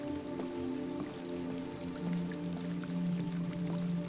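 Steady rain in the video game Detroit: Become Human, a soft continuous patter of drops on surfaces under a low humming tonal drone, with no voices.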